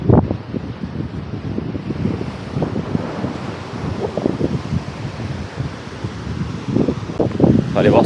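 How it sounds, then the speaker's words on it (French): Strong, cool, gusty wind rumbles against the microphone in uneven bursts on the shore at Kegaska, Quebec, with surf-like washing in the background and a brief louder gust near the end. "Vraiment du gros vent par contre, du gros vent frais."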